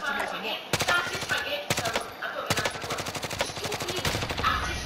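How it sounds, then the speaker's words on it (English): Rapid automatic gunfire in a video game shooter, sounding as fast, close bursts of crackling shots broken by brief pauses, with game effects and voices murmuring underneath. "I'm getting shot from behind now"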